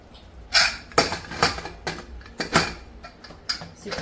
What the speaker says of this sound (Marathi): आता ठेवते याच्यावर कुकरचं झाकण